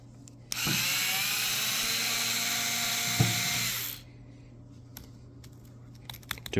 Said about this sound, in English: I will get a screwdriver.